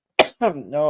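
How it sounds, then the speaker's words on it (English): A single sharp cough, close and loud, followed immediately by a voice speaking. "I'm going to start coughing."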